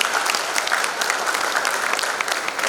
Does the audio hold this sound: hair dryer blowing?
no